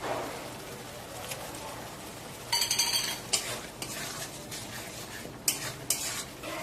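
Ginger paste fries with golden onion paste in a pan, a soft sizzle under repeated spatula scrapes and clinks against the metal, coming in irregular bursts at close range.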